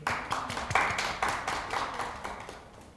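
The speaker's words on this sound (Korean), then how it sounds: "지금 다시 한번 큰 박수 부탁드리겠습니다" Several bursts of claps from an audience at a Catholic foundation center's orientation event, uneven rhythm fading slightly over a few seconds, fairly close and moderate in level.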